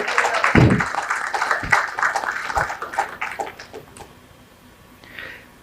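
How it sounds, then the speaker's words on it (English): An audience at a healthcare and pharma supply chain panel discussion applauds in a burst of clapping that is loud at first, then thins and fades out over several seconds. "Can we have a round of applause?"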